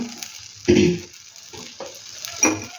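Oil drizzled onto a wheat dosa on a hot tawa gives soft sizzling and a few faint scrapes and clinks of a utensil, with two brief louder bursts, quiet overall and no voices.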